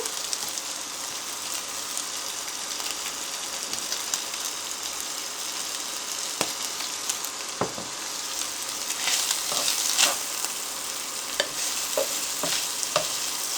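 Chopped onion and garlic fry in a hot pan as seasoning for cheese and chicken tacos, giving a steady soft sizzle broken by occasional sharp scrapes and taps of stirring, close and with no talking.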